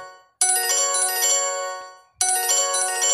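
A phone ringtone set off remotely by a parental monitoring app plays loud and steady, stopping briefly after about two seconds and then starting again, with no talk over it.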